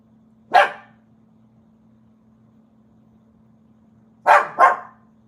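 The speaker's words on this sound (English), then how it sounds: "There's Yuki, who woke straight up out of his sleep to bark at something." A dog roused from sleep barks once, then goes quiet before giving two quick barks in a row, close and sharp over a low steady hum.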